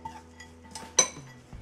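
A spoon scrapes and taps against a dish while stirring carrot halwa with ghee and chopped walnuts, giving a few soft clinks and one sharper knock that stand out against near silence.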